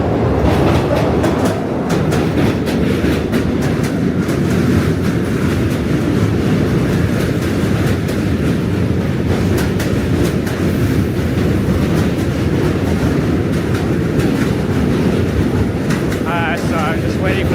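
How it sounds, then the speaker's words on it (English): A train rumbles past on a New York City route with continuous clickety-clack and a heavy, near roar lasting throughout, brief squeal near the end, with a voice talking underneath. "So I'm just waiting for the train to pass."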